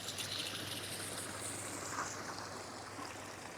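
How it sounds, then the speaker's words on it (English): Water runs continuously through a front-yard garden waterfall feature on a cold winter day, a soft, steady trickling wash heard from a short distance with no voices. "Here's the front waterfall feature."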